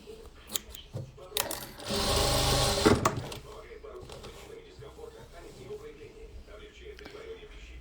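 A Jack F4 sewing machine stitching in a sustained whirring run of about a second, with scattered clicks and handling noises around it and a person speaking quietly nearby.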